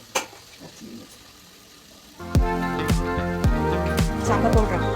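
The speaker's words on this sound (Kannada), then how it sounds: "ಬಾಳೆಕಾಯಿ ಫ್ರೈ ಆಗುವಾಗಲೇ ಸ್ವಲ್ಪ ರುಚಿಗೆ ತಕ್ಕಷ್ಟು ಉಪ್ಪನ್ನ ಹಾಕಬೇಕು" Raw plantain pieces fry in a pan for a festive meal, starting with faint hiss and stirring before a louder, steady sizzle sets in, broken by sharp scraping clicks of a spoon against the pan.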